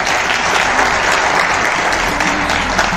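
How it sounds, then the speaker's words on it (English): Sustained applause from an audience honoring volunteers at a Chemistry Day celebration at IIT Indore, dense and steady clapping filling the whole stretch at close range. "Let's give a big round of applause to them."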